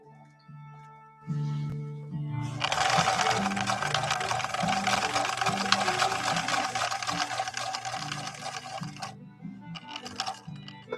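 A 1964 Viking Husqvarna 19E Special sewing machine runs at regular speed, a dense mechanical chatter lasting several seconds after a soft start, then stopping and briefly restarting close by.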